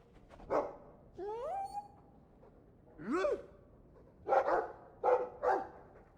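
A dog in the video game Dragon Age 2 gives a series of close, short barks, yips and whining cries separated by brief pauses.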